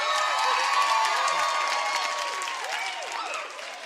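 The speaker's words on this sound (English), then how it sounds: "clap your hands." Audience clapping and crowd noise at a live seminar on overcoming fear of snakes: dense, steady applause mixed with cheers and whoops, a hall full of people, with voices calling out over it.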